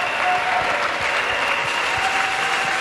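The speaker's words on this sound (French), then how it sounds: "Let's clap to Jesus." A crowd at a national Bible camp in Côte d'Ivoire claps steadily together during worship, a dense, continuous wash of applause with faint voices underneath.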